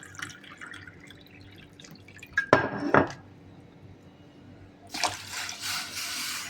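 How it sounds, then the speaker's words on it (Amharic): Two cups of cold water are poured into an orange jelly mixture in a home kitchen: a brief splashing burst, then a steady, fairly loud rush of pouring that runs to the end, with no talking. "ሁለት ኩባያ ጨምራለሁ ቀዝቃዛ ውሃ።"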